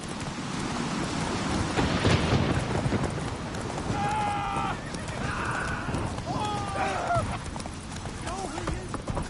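A horse gallops in The Witcher 3 video game, with continuous rhythmic hoofbeats under a busy mix of game sound, brief whinny-like calls and voices.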